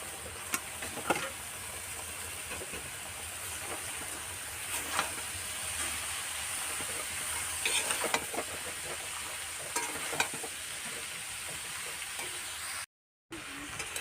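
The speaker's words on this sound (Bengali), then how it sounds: "এবারে দিয়ে দেব কেটে রাখা লাউ" Chopped bottle gourd stir-fries in spiced oil in a pan with a continuous close sizzle and scattered stirring scrapes, with a brief dropout near the end.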